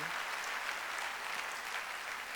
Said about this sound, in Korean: 깨달아서 박수 쳐요.